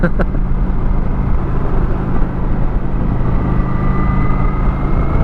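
A Kawasaki Vulcan 900 Classic with its stock exhaust rumbles steadily while riding, a low, fairly quiet engine drone blended with constant wind rush close by.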